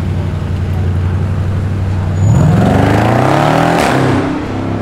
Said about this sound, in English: just give it a little stick like that so that we can hear the car